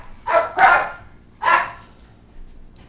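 A dog barks three times nearby, two quick barks followed by a third after a short pause, with a faint fourth at the end.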